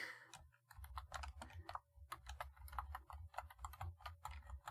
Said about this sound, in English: I'll have to type it all if I can't spell administrator